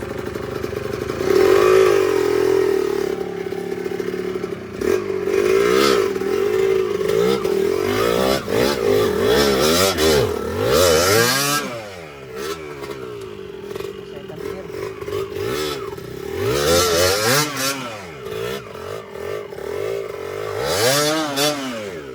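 A dirt bike engine revs and strains continuously on an enduro trail on Mount Makiling, its pitch rising and falling as it climbs, with loud rattling and occasional voices over the noise.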